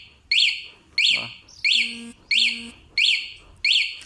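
A Spy car alarm remote lock sounds six sharp, high chirps at an even, roughly half-second-plus spacing, close and clear, with a faint voice murmuring briefly between two of them.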